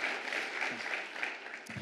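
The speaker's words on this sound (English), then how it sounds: "Clap for that" Audience applause at a city State of the City address in Hillsboro, a brief even wash of clapping from a crowd, holding steady throughout.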